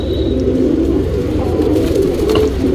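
Continuous low pigeon cooing, loud and close, with a faint chirp or two in the background.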